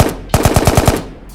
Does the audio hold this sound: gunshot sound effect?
yes